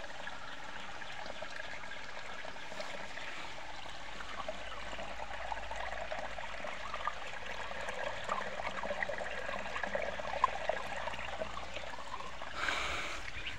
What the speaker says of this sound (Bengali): দেখেন পরিমাণ স্বচ্ছ পানি আসতেছে।